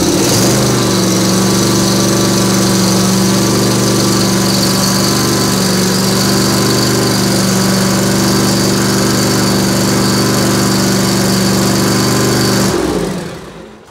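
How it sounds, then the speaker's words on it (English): A cold Kawasaki Trim Star string trimmer engine runs at a steady, loud, buzzing high idle for about thirteen seconds before shutting off and winding down. "I'm going to start up the other trim star, which is also cold."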